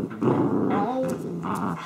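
A dog growls and whines close up in short rumbling bursts during rough play indoors, with a person's voice mixed in briefly.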